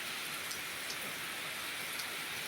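Steady rain falls in Southern Leyte, a soft even hiss of drops pattering on surfaces, continuous and moderately faint with no voices.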